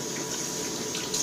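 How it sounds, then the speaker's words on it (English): Running water from a tap rinses a shaving brush, a steady close hiss that carries on unbroken with no talk over it. "Now first I'm going to rinse off my my brush"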